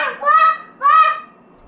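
A fighting hen squawks twice in quick succession, loud and close, each harsh honking cry lasting about half a second, with silence after.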